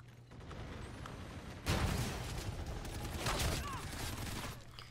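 Incendiary-shell gunfire from a shotgun in the Infinite Warfare video game, heard as a dense, steady run of shots and game-battle noise with a loud burst partway through, with faint talk underneath.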